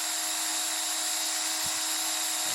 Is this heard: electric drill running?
yes